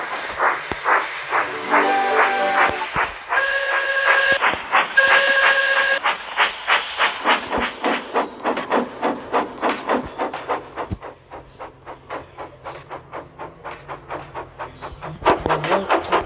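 A steam locomotive chuffs rhythmically, its regular puffs steady and close, with two short shrill whistle blasts early on and hissing steam throughout.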